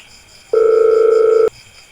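Phone ringback tone on an outgoing call, one loud steady electronic beep held for about a second, alone with no voices.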